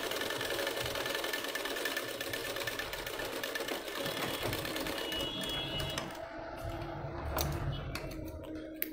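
A sewing machine runs in a fast, steady close-up whir while stitching a sleeve onto a ready-made dress, then slows and stops with a few clicks near the end.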